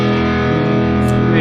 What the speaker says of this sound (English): let me turn off some distortion here